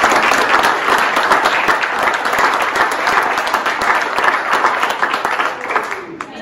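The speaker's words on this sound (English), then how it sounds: "I really like to give them a big round of applause" A crowd claps and applauds for the new owners of a pizza shop at a ribbon cutting, sustained loud clapping filling the space before tapering off at the end.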